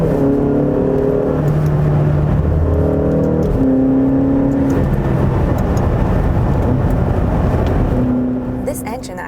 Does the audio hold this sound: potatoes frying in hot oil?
no